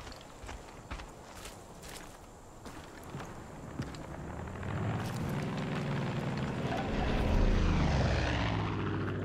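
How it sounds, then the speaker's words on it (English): In Far Cry 5, a helicopter engine whirs quietly, then builds to a loud, swelling rotor roar as it sweeps close overhead, with scattered clicks early on. "Helicopter."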